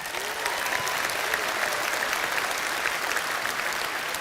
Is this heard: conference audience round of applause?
yes